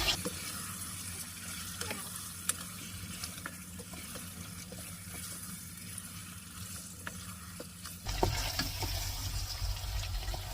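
Large chicken pieces fry in a pot for biryani, a low continuous sizzle with occasional clinks and stirring scrapes, getting noticeably louder and hissier near the end.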